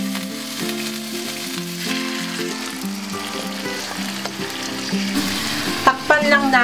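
Marinated chicken and pork for Filipino adobo frying in a pan: a steady loud sizzle with stirring and a few clinks, ending in louder spattering bursts as the meat goes in.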